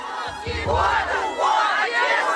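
A crowd in Odessa shouts against the Kyiv government, loud massed chanting and yelling with overlapping voices in a steady, surging roar.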